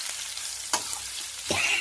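Grated knol khol sizzles steadily in a hot pan for knol khol curry, a soft continuous hiss broken by two sharp stirring scrapes, quiet and close with no talking.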